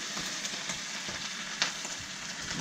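Italian porcini mushrooms sautéing in butter, a soft continuous sizzle with light stirring ticks and one sharper clack, close and fairly quiet, with no talking.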